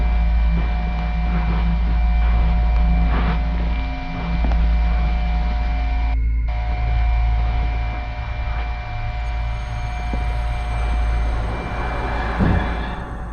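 Steady, irritating electrical mains-like hum with a constant drone filling the empty yellow hallways of the Backrooms game, unbroken and monotonous throughout, with faint incidental noises.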